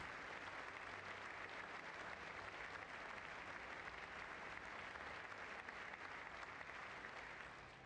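Steady, dense applause from a large crowd at a standing ovation, continuous and even for several seconds, faint and without talk.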